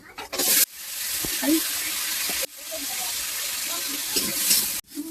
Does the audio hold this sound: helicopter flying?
no